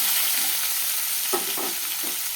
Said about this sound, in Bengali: দেখো, সবজিগুলো কিন্তু আমার খুব ভালো করেই ভাজা হয়ে গেছে।